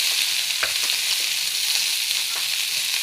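String beans and tuna sautéing in a pan for sitaw with paksiw na tulingan, a loud, dense, continuous sizzle with faint stirring taps, close up and without speech.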